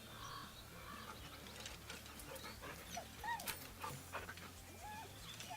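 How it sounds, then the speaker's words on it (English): A dog whimpers nervously in the Baldur's Gate 3 video game, giving short faint whines and soft panting over a low ambient hum, with bird-like calls and caws nearby. "The dog whimpers nervously, as if to urge you on."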